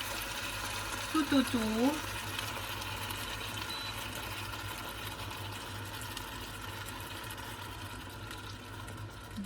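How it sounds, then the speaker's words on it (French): Water is poured gently from a large glass around stuffed courgettes in a pan with chicken meatballs, giving a steady wet trickle and splash under brief talk. "Vous remplissez un grand verre d'eau que vous versez délicatement"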